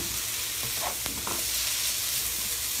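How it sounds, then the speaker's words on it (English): Vegetables, including broccoli, sizzle and fry in a hot wok, a steady close crackle with a few stirring scrapes and no talking. "the heat and the steam from the wok cooks all the vegetables down"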